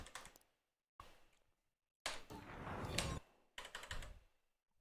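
Close clattering bursts of typing on a computer keyboard, a short flurry, a pause, then a longer run of rapid keystrokes and a final burst that trails off into silence.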